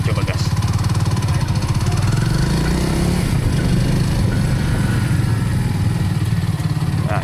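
A Kawasaki Meguro S1 classic motorcycle being revved, a close, loud, steady engine thrum with a rising and falling rev partway through, running continuously.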